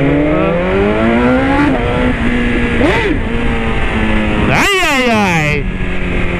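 A motorcycle of about 1000 cc with a quickshifter revs hard and downshifts without the clutch, engine pitch climbing and dropping in steps with sharp popping blips, loud and close, while a rider briefly exclaims.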